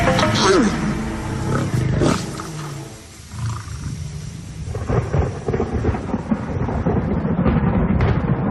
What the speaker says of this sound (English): The mating is slightly noisier and longer than in the case of leopards.